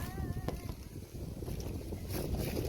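Wind blows across a rural hillside behind a village in a steady, rushing gust that buffets the microphone, with faint background sounds and no clear speech.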